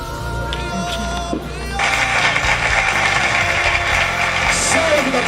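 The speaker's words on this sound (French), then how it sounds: "applaudissements." Wedding guests applauding in a hall, a broad wash of clapping and crowd noise that swells in after a moment and holds steady, mixed with background sounds and a bit of music.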